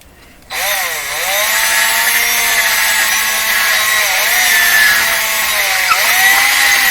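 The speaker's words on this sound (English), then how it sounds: "Can ream it out." A part of a Canadian General Electric C421 radio receiver is reamed out with a power tool, producing a loud, continuous grinding whine that starts abruptly and rises and dips slightly in pitch as it runs.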